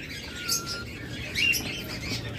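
Pet lovebirds kept in a breeder's cage setup, a couple of short high chirps rising over a low background hum, brief and moderately near, no talk.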